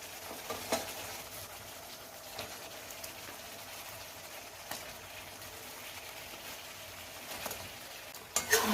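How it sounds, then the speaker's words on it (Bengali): Chicken pakoras stirred into chilli chicken sauce in a pan, a soft steady sizzle with occasional faint scrapes and clicks of the spoon, fairly quiet throughout and louder knocks at the very end. "এটাকে মিক্স করব"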